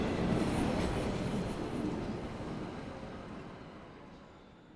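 A train pulls out of a station, its rolling wheels and rail noise loud at first and then slowly fading into the distance over several seconds, heard alone without voices.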